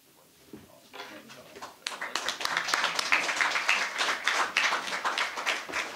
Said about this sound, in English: One more round of applause for this 2020 class of Chef Ambassadors.